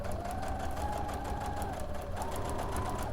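A sewing machine stitches through fabric pieces and a paper pattern along a joining seam, running as a steady, close mechanical whir with a fast rhythmic pulse that holds throughout without pause.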